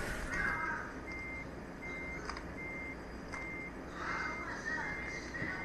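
A truck's reversing alarm in a driving video game repeats its evenly spaced beeps at a modest level over a low engine rumble.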